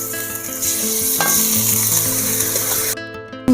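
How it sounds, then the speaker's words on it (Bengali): Chopped onions already fried in a pan sizzle steadily as ginger-garlic paste is added and stirred in, a loud close frying hiss with scraping stir sounds, cooking egg tadka dhaba style. "পেঁয়াজটা ভাজা হয়ে গিয়েছে এবারে আদা রসুন বাটা এবারে দিয়ে দেবো"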